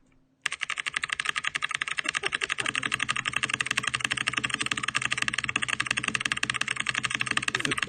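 Very fast, dense typing on a computer keyboard during a typing speed test, with rapid, continuous clattering keystrokes close up and loud for several seconds after a brief quiet start.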